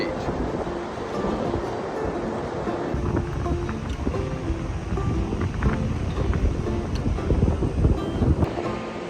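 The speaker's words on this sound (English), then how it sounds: "the winds were just coming, pushing the water onto the beach." Strong tropical storm wind buffeting the microphone on a St. Augustine beach, with surf washing in steadily underneath, loud and continuous throughout.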